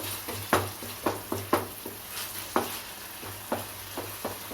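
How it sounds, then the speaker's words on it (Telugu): Ginger garlic paste and tomato pulp fry in a hot pan with a steady sizzle. A spoon stirs through it and taps the pan about once or twice a second, and the sharp clinks stand out over the hiss. "అల్లం వెల్లుల్లి పేస్ట్ కొద్దిగా పచ్చి వాసన పోయేంత వరకు వేగించి"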